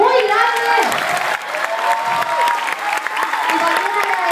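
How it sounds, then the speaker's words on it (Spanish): Audience applause at a Zumba gala, steady dense clapping with some cheering filling the whole stretch, loud and close, with a voice over it. "Así que el aplauso para ellos, muy grande."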